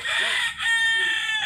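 Several Texas-breed gamecocks raised for derby fighting crow loudly on a farm with many chickens, one long harmonic crow followed closely by another, near and clear with no talk.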